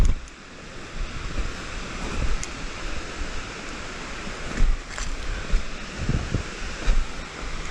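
The Badalgiri waterfall gives off a distant, steady rushing wash, with faint gusts of wind buffeting the microphone.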